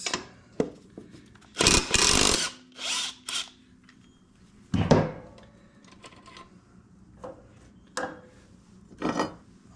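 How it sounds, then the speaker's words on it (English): A power tool works the blade off a Craftsman lawn mower in short, loud, separate bursts of whirring and ratcheting between quiet gaps, close by and with no talk. "let's get the blade off and get it sharpened"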